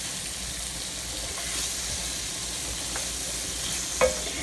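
Peeled shrimp frying in a hot pan, a steady loud sizzle throughout with faint stirring scrapes, no voices.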